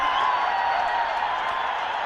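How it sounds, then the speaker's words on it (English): A broad, steady wash of crowd noise at a cricket match between Nepal and UAE, distant and continuous, like a stadium full of people cheering without a break. "you can hear the roar of the crowd"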